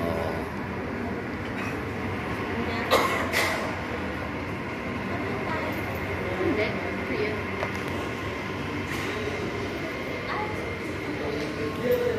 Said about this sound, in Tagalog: Naantay namin dumating yung train.